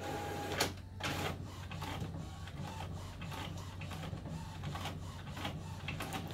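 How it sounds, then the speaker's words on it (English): An inkjet-style home printer runs at best quality on a thick paper setting, giving a faint, steady mechanical whir with soft periodic clicks and shuttling passes, close by and without speech. "And that will take just a little bit to print out because I put it on the best quality setting."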